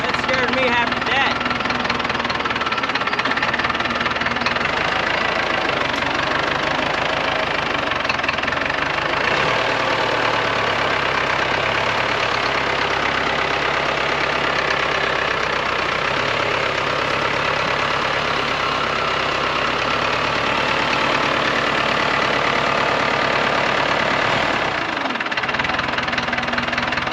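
A 1960 International 460 tractor engine idles close by with a steady, rough, knocking chug and heavy shaking vibration, continuous throughout while a person talks over it.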